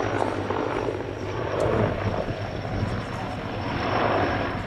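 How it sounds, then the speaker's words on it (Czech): An armored military helicopter drones steadily nearby at an air show, its low rotor throb and engine whine continuous and fairly loud throughout. "Tento vrtulník je pancéřován."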